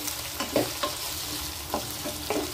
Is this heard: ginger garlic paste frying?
yes